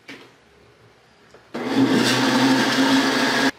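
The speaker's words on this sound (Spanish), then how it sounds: "Le vamos a poner el resto de lo que es el mango. Lo vamos a moler tantito." A kitchen blender switches on and grinds mango with condensed milk for mango gelatin, a loud steady whirring roar lasting about two seconds before cutting off abruptly, following a quiet start.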